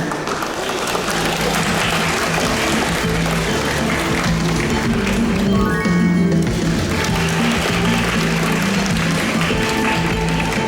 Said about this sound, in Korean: 출연진을 무대 위로 모시겠습니다. 큰 박수로 환영해주시기 바랍니다